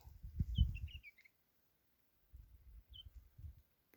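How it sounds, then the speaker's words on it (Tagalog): A small bird in the Saudi desert gives a short burst of high chirps, then one more faint chirp, over quiet rustling and footsteps with no talking. "May ibon."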